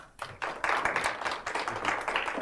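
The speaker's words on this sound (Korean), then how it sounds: "변호사님께 박수 좀 부탁드리겠습니다" An audience at a business law seminar claps for the lawyer after a Q&A, a short round of moderately loud applause that starts after a brief quiet moment and carries on steadily.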